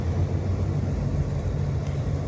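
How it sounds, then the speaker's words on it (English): A tow truck hauling a car outside a home, heard as a steady low engine rumble with a droning hum, continuous and fairly close, with no talking over it. "Somebody's car getting towed."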